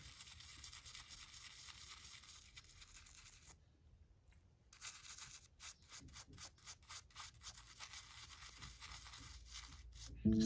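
A fossil is scrubbed with toothpaste and a little water, giving soft, faint rubbing strokes that pause briefly and then resume in quick repeated bursts, close up and quiet.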